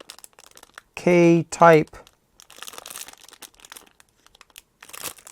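A plastic bag crinkles and rustles as a K-type thermocouple is pulled out of it, scattered close crackles following a brief stretch of speech.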